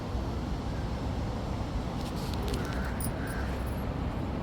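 Crow cawing outdoors, a few harsh calls at moderate distance over steady broadband background noise, with no talk.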